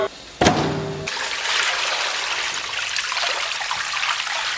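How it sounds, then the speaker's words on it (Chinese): Blanched pork leg bones being rinsed. A sharp clank opens it, then running water splashes and trickles continuously, close by. "咱们把棒骨给它清洗一下"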